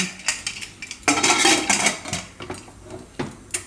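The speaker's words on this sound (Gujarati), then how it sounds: "અને કુકરનું ઢાંકણું બંધ કરી દે." Metal clatters and clanks of a pressure cooker's heavy lid being set down and closed, a few sharp knocks close by with no talking.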